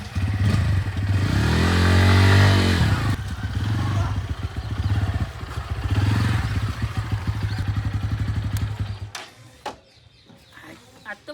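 A new motorcycle idles and revs nearby in two rising swells, its engine droning loudly before cutting off abruptly, followed by clattering and quieter background noise.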